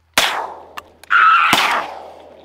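Shotgun blasts during a duck hunt: a sharp, loud shot, two brief small clicks, then a second loud blast ringing into a sustained tonal whine before fading.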